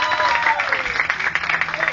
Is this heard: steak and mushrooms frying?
no